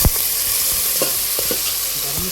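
Tomatoes and garlic-ginger paste fry in rendered goat mutton fat with a constant close sizzle, broken by several scraping stirs of a spoon in the pan.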